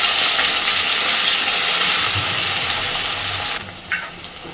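Potatoes for a raw-banana curry fried in a pan, giving a loud, continuous hiss and sizzle that drops away abruptly near the end, heard close with no talking.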